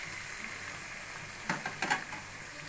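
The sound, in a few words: hilsa fish pieces frying in spiced masala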